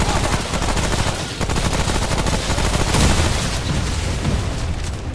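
Rapid, sustained automatic fire from an Uzi in Remnant: From the Ashes, a dense unbroken rattle of shots running loud and close for several seconds with no pauses.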